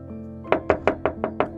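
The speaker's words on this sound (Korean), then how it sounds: "크리스찬이 문을 두드리자" Six sharp knocks on a door land in a quick, even series, close and distinct over a faint low background hum.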